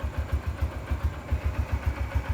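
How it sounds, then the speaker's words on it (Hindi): A Honda CB150F motorcycle, 2024 model with modified wiring, idles just after starting, its single engine putting out a steady, rapid low thumping pulse, close and loud, with no talking. "बाइक मैंने कर ली है स्टार्ट"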